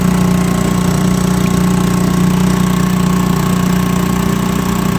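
A Honda BF2.3 outboard motor runs at about half power while a boat moves along, giving a steady, loud, continuous engine drone with no talk.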